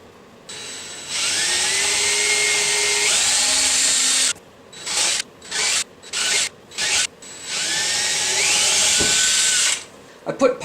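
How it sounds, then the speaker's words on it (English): Power drill bores pilot holes into oak: two long whining runs with rising pitch as the motor spins up, split by a series of short rhythmic bursts, loud and close, with no talking over it. "I put pilot holes in here to begin with because drills tend to follow other drill holes"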